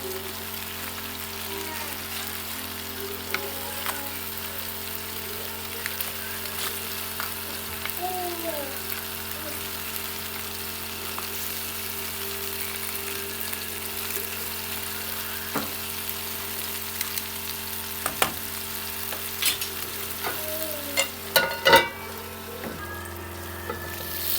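Fish frying in a pan, a steady moderate sizzle with a constant low hum beneath and scattered crackles and pops, busier with clatter near the end.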